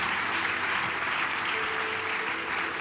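A church congregation claps their hands in steady, dense applause that fills the room at an even, loud level from start to finish.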